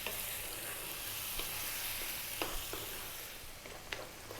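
Tomatoes and oregano cooking in a pan on medium heat, giving a steady soft sizzle with a few sharp spatula or stirring clicks scattered through it, heard alone without talk.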